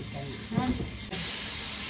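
Garlic sizzles in a hot pan with a steady hiss, a brief clatter of stirring midway, and a voice faintly underneath.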